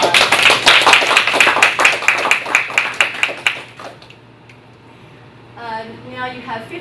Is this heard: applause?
yes